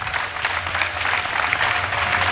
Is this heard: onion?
no